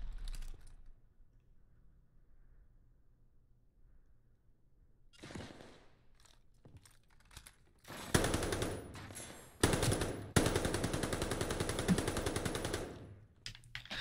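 Call of Duty Vanguard multiplayer gunfire: after a quiet stretch and a short spatter, sustained loud automatic bursts of rapid machine-gun fire roar up close, broken by a brief gap, then fade.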